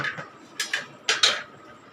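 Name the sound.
upma being stirred in a pan, lid put on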